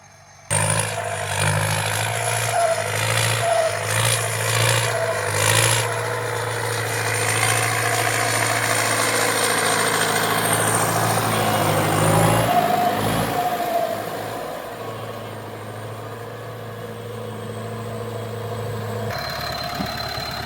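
A farm tractor's heavy diesel engine runs steadily at close range with a low rumbling drone, its pitch shifting slightly partway through before settling into an idle.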